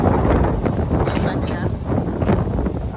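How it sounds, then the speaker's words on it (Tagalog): Strong wind buffets the microphone in loud, continuous rumbling gusts, with a voice talking faintly underneath. "Tinatangay ng hangin. Ang lakas ng hangin."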